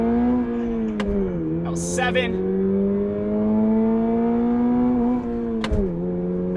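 A 2022 Toyota GR86 sports car accelerates from a take-off, its engine note climbing steadily in pitch as the revs rise toward the redline, heard from inside the cabin with a brief dip at a shift and someone speaking over it.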